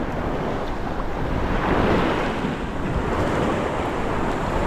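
Surf washing steadily onto an island's front beach, a continuous broad roar of breaking waves with wind buffeting the microphone, loud and close, with no voices.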